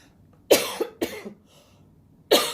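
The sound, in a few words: cough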